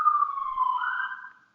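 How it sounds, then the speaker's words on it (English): A police siren wails as a single steady tone that slowly bends in pitch before fading out, clear and fairly prominent with no one talking. "And there was a police siren."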